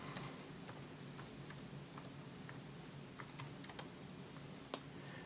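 Typing on a computer keyboard, a steady stream of soft, close key clicks with a few sharper taps, over a faint background hum.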